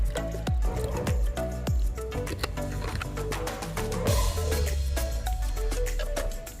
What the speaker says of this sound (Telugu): బెండకాయ జిగురు ముక్కల్ని